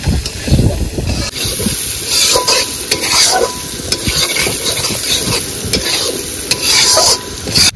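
Potatoes being stirred and fried in a pan with spices, a steady loud sizzle with scraping stir strokes repeating throughout, close up and without speech.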